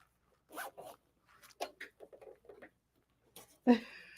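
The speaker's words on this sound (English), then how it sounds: "All I'm doing is closing the zipper up." A zipper on a newly sewn Melody top is pulled closed in several short, soft rasping bursts, close and quiet, with a brief rustle at the end.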